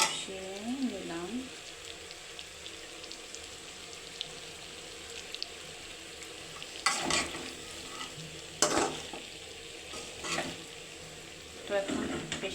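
Salted duck meat is sautéed in a pan under a low, steady sizzle. A voice speaks briefly at the start, then loud spatula stirs and scrapes come in separate bursts through the rest.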